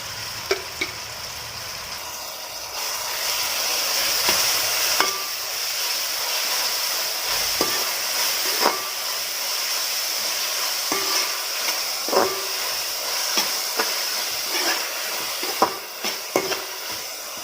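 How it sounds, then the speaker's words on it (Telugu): Chopped onions frying in a pan for a barramundi fish curry, giving a steady close sizzle with frequent scraping stirs of a spoon throughout. "ఉల్లిపాయలు మగ్గుతున్నాయి కదండి"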